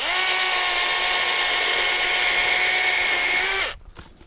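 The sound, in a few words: cordless power saw running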